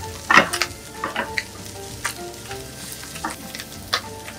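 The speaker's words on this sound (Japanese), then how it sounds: "炒めた方がエビは香りが出ますよね。 1、2分ぐらい炒めれば、" Shrimp stir-frying in a pan for a green curry fried rice, a low sizzle broken by sharp clacks and scrapes of the spatula at an uneven pace, close and without voices.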